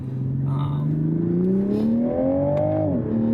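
A 2023 Toyota Supra fitted with an MST V2 intake accelerates hard in second gear with the windows up, its engine note climbing smoothly and loudly from inside the cabin before easing off near the end.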